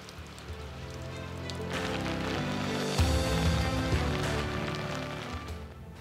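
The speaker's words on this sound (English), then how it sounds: "in typical Alaska fashion, the rain set in." Rain falls steadily at an Alaska hunting lodge, a soft continuous patter that swells slightly midway and stays fairly quiet throughout.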